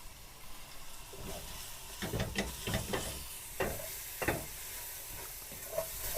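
Soft intermittent sizzling of spices and onion in a frying pan, with a few scraping stirs and clinks as ingredients are moved around; close and fairly quiet.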